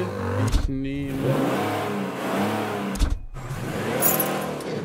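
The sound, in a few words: car engine revving in the video game Mafia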